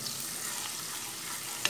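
Polenta cooks in a pot with a small clove of garlic, giving a soft, steady sizzling hiss with a brief clink near the end and no voices.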